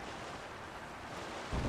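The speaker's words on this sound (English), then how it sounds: "It's sailing pretty fast with the wind from the fans." A sailboat in Zelda: Tears of the Kingdom, pushed by two fans across a river, gives a steady broadband rush of wind and water. It runs evenly throughout and swells into a louder low thump right at the end.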